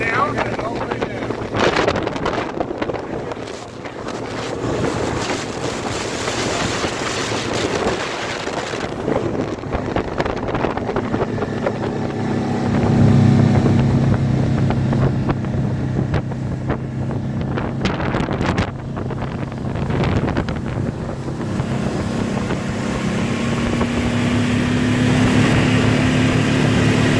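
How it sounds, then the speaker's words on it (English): A 1976 Omega boat's engine runs at full throttle while the boat speeds across the water at about 45 mph, a steady loud drone under heavy wind buffeting on the microphone. "We're gonna see how this Omega does. Give her some gas!"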